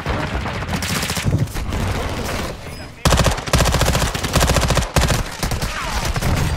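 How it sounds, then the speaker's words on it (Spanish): Enemy gunfire in Warzone 2 crackles in dense, rapid automatic bursts, loud and close, with brief pauses between volleys and a few sharp single reports. "de enfrente me siguen disparando estos tíos"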